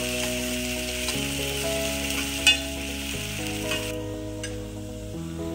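Onions sizzle and fry in a pan while being stirred for kanda poha, a steady close crackle and scrape with one sharp clink partway, under droning background music.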